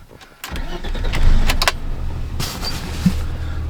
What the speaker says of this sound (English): to start the car, I'm gonna set you up right here because you have to like shake the steering wheel to get it to start